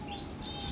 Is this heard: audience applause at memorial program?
no